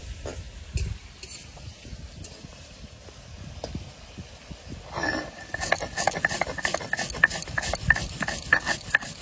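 Potatoes being stirred in a frying pan, sparse scrapes and knocks at first, then after a short pause a busier run of rhythmic scraping strokes with light sizzle, close and clear, no voices.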